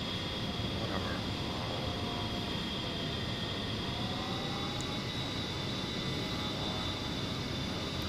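Jet engine of an A-10C Warthog in the DCS flight simulator, a steady, loud whine with a high tonal hum over broad rushing noise, continuous throughout.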